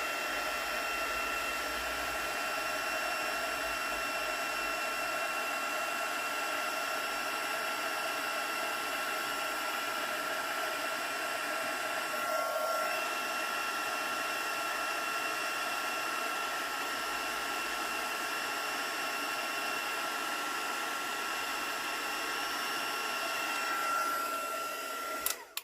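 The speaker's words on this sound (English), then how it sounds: "I'm going to heat set these first." A heat tool blows a steady whining, whooshing stream of hot air over freshly stamped ink on paper leaves, running continuously and close for the whole stretch with no talking.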